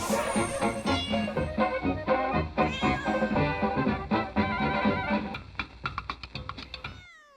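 A long, drawn-out cat meow that wavers and stretches, loud and close, ending in a few quick choppy bursts.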